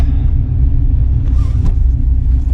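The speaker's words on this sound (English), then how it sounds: "So we'll do a little spirited driving." A turbocharged Ford Mustang Foxbody out on a spirited drive gives a loud, deep, steady engine rumble heard from inside the car, continuous and dominant throughout, with no talking.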